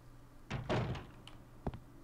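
A door opening in Resident Evil Code Veronica X on GameCube, with a muffled wooden thunk and creak followed by two quick sharp clicks and a faint final tap, close and isolated against quiet background hum.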